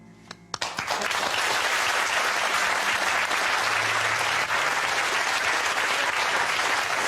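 Studio audience applause on the Deal or No Deal game show breaks out abruptly after a brief quiet moment, then holds as a loud, thick wash of clapping right through to the end.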